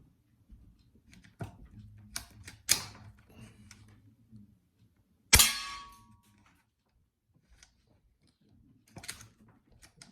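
Hatsan Flashpup S .22 bullpup air rifle, modified at the block, valve port and barrel port, firing 18.13 grain JSB pellets: a few sharp metallic cracks and clangs spaced apart, with one loud shot near the middle, in an otherwise quiet setting.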